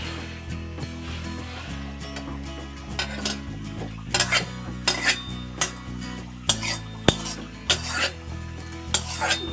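A utensil stirs Brahmi greens and broccoli in a pot of boiling salted water, giving a series of clear, fairly regular metallic scrapes and clinks close by over a low bubbling background.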